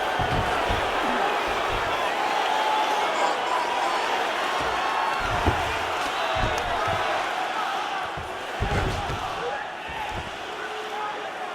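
A crowd in the UFC 5 fighting game cheers with a dense, steady roar during a stand-up exchange, swelling slightly in places, while punches thud intermittently and commentators talk over the noise.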